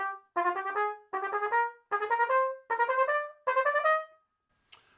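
A wind instrument plays a double tonguing exercise with fingers following the tongue: five clean phrases of rapid articulated notes, each a quick burst of repeated pitches separated by short pauses, close and clear in a quiet room.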